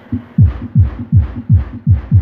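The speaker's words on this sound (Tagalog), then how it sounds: "Yung tunog ng ating sub mga boss." A deep, booming subwoofer bass tone at 240 Hz pulsing in a steady rhythm, each thump loud and close, about three per second.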